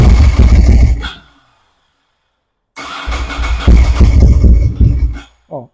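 A Ducati Monster motorcycle engine cranks and briefly rumbles loud and close, cuts out into silence, then cranks again with uneven sputtering before it dies, as if short of fuel.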